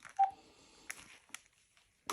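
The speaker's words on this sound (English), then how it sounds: "Sorry, my phone just beeped." A mobile phone gives one short, faint electronic beep against a quiet background with a few soft clicks and rustles.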